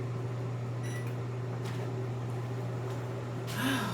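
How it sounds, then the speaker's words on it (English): A microwave oven in a home kitchen runs with a steady low electric hum, a few faint clicks and rattles, and a brief higher whir near the end. "I'm going to put this in a microwave so I can start eating"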